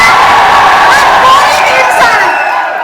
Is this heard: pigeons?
no